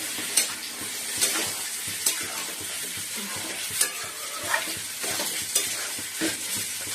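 Cabbage frying in a pan and being stirred, a steady hiss of sizzling with regular spoon scrapes and clinks against the pan every second or so, close and fairly loud, no talking.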